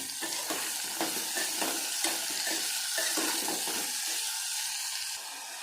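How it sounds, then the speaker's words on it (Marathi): Small onions frying in oil in a pot for sambar, a loud continuous sizzle up close with rhythmic scraping strokes of a spoon stirring through, easing slightly near the end. "आपण याला तेलामध्ये छान छानपैकी फ्राय करून घेऊ"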